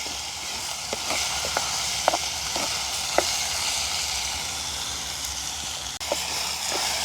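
Tomatoes sauté in a pan with a steady, close sizzle, broken by a few light clicks of stirring; no voices.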